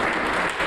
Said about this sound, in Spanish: nuestro presidente Nicolás Maduro, para quien pida un fuerte aplauso, quien es que nos está inspirando.